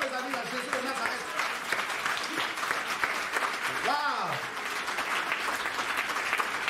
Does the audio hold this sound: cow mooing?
no